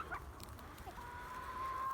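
Free-range chickens on a farm in Bingöl, soft clucks and a few short calls over a steady low outdoor background, with a higher drawn-out call near the end.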